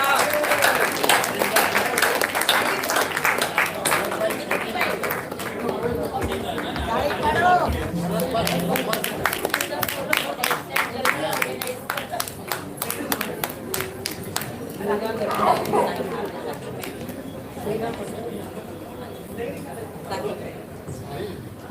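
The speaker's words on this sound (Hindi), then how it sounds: "तालियां भाई जोरदार" Audience at a dance-drama performance clapping in bursts, the rhythmic applause rising and fading amid crowd chatter and a speaking voice.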